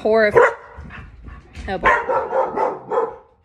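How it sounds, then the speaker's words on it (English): Dogs bark and yip in short bursts, one sharp bark up close followed by a scatter of quieter barks, mixed with a person speaking. "My dogs are crazy."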